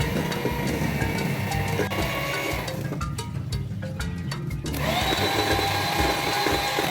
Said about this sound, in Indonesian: Jadi tiap masukkan kuning telurnya itu di mixer sampai dia tercampur